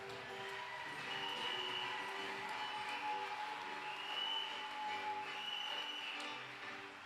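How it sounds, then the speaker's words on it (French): Sustained applause and cheering from a church congregation in Libreville, Gabon, welcoming the pastor's wife. The clapping is dense and continuous for about seven seconds over a steady held tone. "Nous acclamons très fort pour elle"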